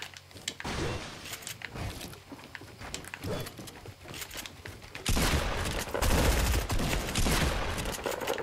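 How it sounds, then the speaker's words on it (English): Shotgun blasts in Fortnite, a pump shotgun fight, come as sharp bursts over game audio, with a denser, louder stretch of firing in the second half. "Two shotgun shots."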